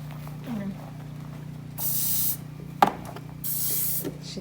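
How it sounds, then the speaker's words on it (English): Teat spray hisses onto a dairy cow after milking in two short bursts about a second each, close by, with a humming machine drone underneath and people talking around it. "We just need to spray her still"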